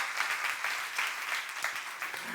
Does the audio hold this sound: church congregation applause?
yes